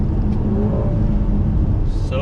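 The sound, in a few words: 2019 Maserati Levante GTS SUV accelerating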